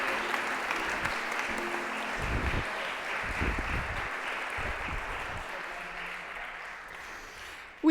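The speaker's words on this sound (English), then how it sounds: "Let's give them a round of applause" A church congregation applauds at a birthday blessing during a service, a steady, moderately distant wash of clapping that holds for several seconds with a few low murmurs underneath.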